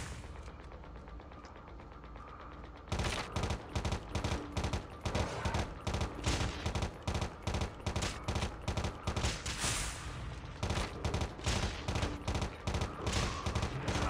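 Rapid automatic gunfire from a first-person shooter game on mobile, beginning after a quiet opening and continuing in dense bursts with brief pauses, loud and sharp throughout.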